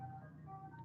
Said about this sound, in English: there's an ice cream truck outside